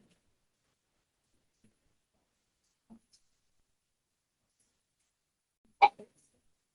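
A single short, sharp sneeze in a quiet courtroom, arriving near the end after long near-silence broken only by faint small sounds.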